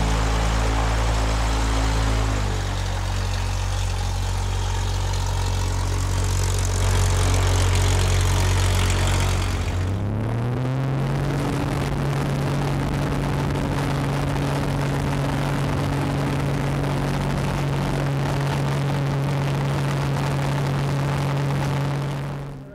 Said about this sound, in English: Coming in from the right side in this CAP 232, a superb airplane.